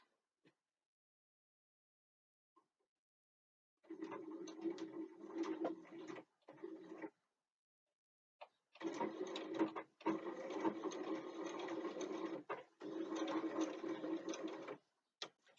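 Close-up, a sewing machine sews a bookbag seam in short bursts, pausing and restarting with brief backstitch runs, then one longer steady stretch of stitching with no talk.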